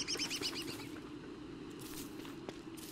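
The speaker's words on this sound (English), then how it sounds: "Oh, I hear a turkey." Turkey gobbling in the video game Don't Starve: a few quick, bright repeated calls at the start over steady game ambience and soft footstep crunches, then only the background and walking continue.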